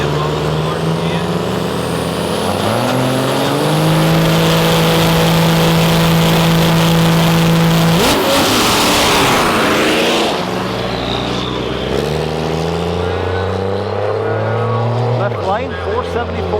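Pro Mod series drag race cars roar down the strip, loud engine tones rising in pitch as they accelerate, with a burst of noise midway and a commentator talking over the engines.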